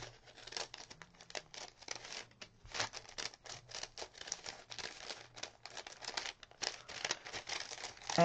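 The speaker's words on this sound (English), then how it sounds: "now I can take scissors, I can cut a circle out of this" Scissors cut a circle out of folded paper, giving a quiet, close run of irregular snips and crinkles as the paper is turned and trimmed.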